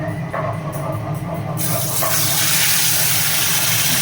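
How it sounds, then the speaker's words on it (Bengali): A pabda fish slides into hot mustard oil, setting off a loud, sudden rush of sizzling that swells and holds as a broad steady hiss close by. "দেখো তেলটা গরম হয়ে গেছে, এবার ছেড়ে দেবো মাছ"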